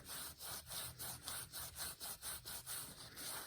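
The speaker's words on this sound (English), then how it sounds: "So we'll scuff up and clean the exterior." Exterior of a copper pipe elbow scuffed clean for soldering: a steady back-and-forth abrasive rubbing, about a dozen even strokes, close and fairly quiet, with no talking.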